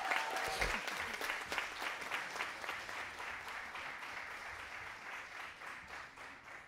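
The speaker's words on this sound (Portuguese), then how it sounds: "Uma salva de palmas para a pastora Cássia." An audience at a solemn ceremony honoring women applauds pastor Cássia, a dense crowd clapping steadily, fairly faint, gradually easing off toward the end.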